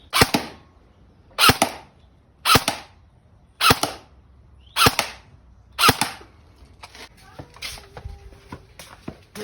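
Airsoft gun fires BBs at a paper target about 30 feet away outdoors, six sharp evenly spaced shots about a second apart, each with a short ringing tail, followed by softer scattered ticks and clicks.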